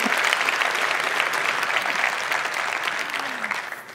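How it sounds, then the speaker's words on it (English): Sustained audience applause at a developer conference talk on Vue and NativeScript mobile apps, a dense, steady wash of many hands clapping at once, loud and full for the whole stretch before easing slightly at the end. "So give her a round of applause"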